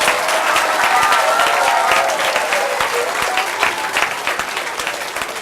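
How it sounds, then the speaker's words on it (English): Loud, sustained audience applause at a school event honouring a school leader, with dense clapping from a crowd that gradually thins toward the end. "If you please take a round of applause for Travis Budd"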